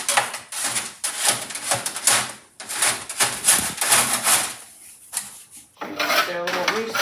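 Scraping stuck droppings off the wire mesh of an indoor quail pen produces a run of repeated rasping, clinking scrapes close by, with short pauses between strokes.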